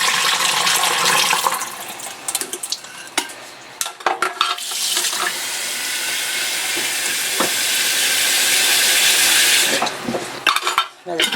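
Cold tap water runs and splashes into a bowl as butter is rinsed, a loud steady rush broken by stirring, sloshing and knocking sounds, with a brief voice in the background.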